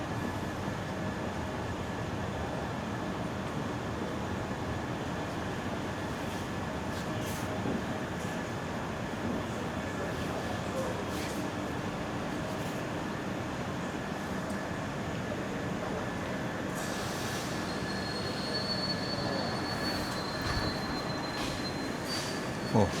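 The 19251 Somnath-Okha Express pulls away from Mithapur station with a steady low rumble of rolling wheels and occasional high squeals, heard from on board, continuous and moderately quiet.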